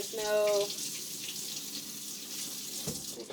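A tap runs steadily into a sink as a blender container is rinsed under it, a continuous close hiss and splash with a brief clunk near the end.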